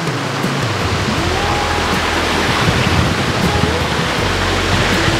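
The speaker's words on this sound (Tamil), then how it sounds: "பக்கத்தில் வரும்பொழுது ஏதோ தண்ணி ஓடுற மாதிரியான ஒரு சத்தம் இருக்குது" Water runs steadily in a stream-like irrigation channel at a heritage museum, a loud, continuous broadband rush that stays nearby and unchanging throughout.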